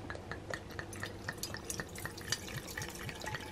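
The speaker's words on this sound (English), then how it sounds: "I'm going to put it through the aerator anyway because we're not going to drink it just now." Wine poured through an aerator into a decanter, a soft, quick run of trickling, dripping liquid with faint glassy ticks, quiet and close, with no voices.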